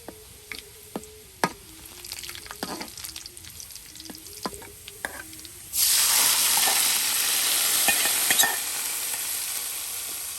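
Onions frying in oil in a village kitchen for a tilapia curry; quiet ticks and stirring knocks at first, then a sudden loud, continuous sizzle surges up and holds close by.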